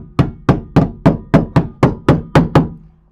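Steel hammer tapping a freshly welded, rust-repaired rear quarter panel on a 1993 Peugeot 306 XLD, nine sharp, evenly spaced metallic knocks about a third of a second apart, close and loud with short ringing decay, no talking.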